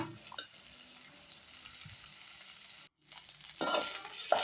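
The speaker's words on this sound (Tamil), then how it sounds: "அதையும் டக்குனு 2 மினிட்ஸ் நல்லா அது கூட சேர்த்து கொஞ்சம் வதங்குங்க" Eggplant, tomato and coconut sizzle and fry steadily in a pan, with stirring scrapes, a brief silent gap, then louder sizzling near the end.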